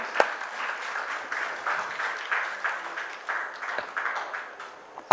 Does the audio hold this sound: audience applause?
yes